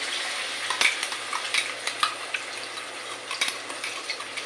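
Paste of ground mustard, green chili and black pepper with salt and turmeric sizzles and spits in hot oil, a steady close crackle with scattered sharper pops and a faint stirring clink, no voices.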